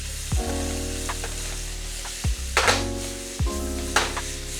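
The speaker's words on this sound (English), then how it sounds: "we're sweating down the onions" Onions sweat in rendered chorizo fat for pork tinga poblana, with a steady close sizzle and a few sharp utensil knocks and bursts of spitting as they are stirred.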